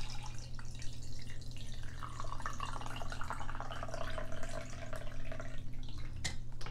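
Reverse osmosis filtered water pours steadily into a jar holding chunks of Himalayan salt, a continuous close trickle and splash running the whole time with no talking.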